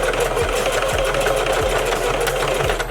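A sewing machine runs steadily up close, stitching a hair bundle track onto a wig, with an even mechanical whir and a regular rhythmic knock from the needle throughout.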